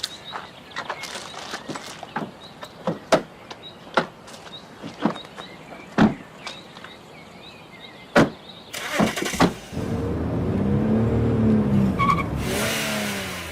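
Car skidding with tire squeals in the MTA driving game, with sharp repeated transients through the first nine seconds, then a sustained louder squealing skid near the end.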